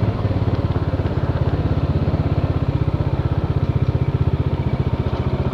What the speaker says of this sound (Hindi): इंजन का साउंड में इतना बेस है कि हेलमेट के अंदर भी काफी मतलब